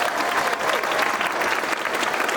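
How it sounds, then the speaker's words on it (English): A live show audience claps in a dense, steady round of applause that holds at an even loudness throughout. "can we please give them one last big round of applause for all of that?"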